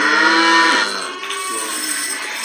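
Several young calves, under a month old, low and bleat-like mooing on a farm, a loud call at first that fades into quieter overlapping cries.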